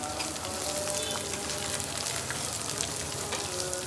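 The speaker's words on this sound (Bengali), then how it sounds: "দিচ্ছে মুসুরির ডাল।" Red lentils sizzle and fry in hot oil with chopped onion and green chili, a steady close crackle and hiss running evenly throughout with no voices.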